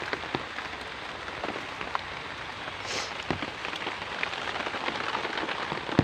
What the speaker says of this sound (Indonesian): Dan hujan guys.